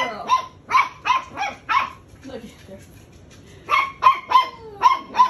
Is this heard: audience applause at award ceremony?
no